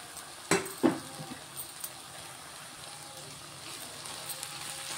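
A spoon stirs cauliflower curry in a pan with fresh coriander: two sharp scrapes near the start, then a few soft clinks over a faint, steady sizzle.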